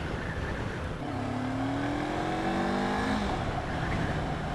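A motorcycle engine during a ride, buzzing steadily and rising in pitch as it accelerates through gears, close and continuous over wind noise.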